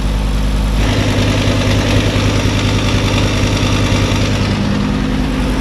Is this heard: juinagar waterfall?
no